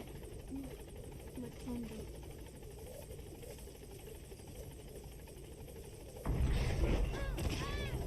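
A helicopter in a video game drones steadily with a constant rotor and engine hum under a talking voice, growing noticeably louder and closer for the last couple of seconds.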